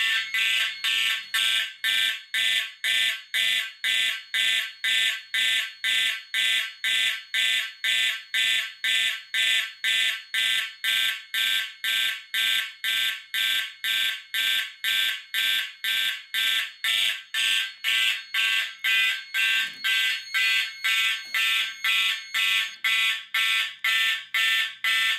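An addressable fire alarm system sounding after a pull station is activated, with a loud, bright, steady march-time pattern of rapid regular pulses repeating for the whole stretch and no talking.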